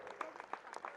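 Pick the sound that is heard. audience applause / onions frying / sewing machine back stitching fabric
audience applause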